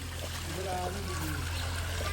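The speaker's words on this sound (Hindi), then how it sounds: "ये वही राइस वाश हो रहे हैं" Rice being rinsed by hand in a pot of water, with a soft, steady trickle and slosh under a constant low hum, while people talk nearby.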